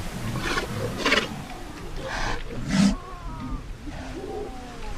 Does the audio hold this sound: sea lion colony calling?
yes